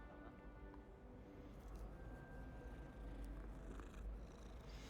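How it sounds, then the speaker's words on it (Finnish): An ocelot purrs in Hogwarts Legacy, a soft continuous rumble held steadily at moderate level throughout, with faint game ambience and a thin tone drifting above. "Hei kissa, tai No oselotti."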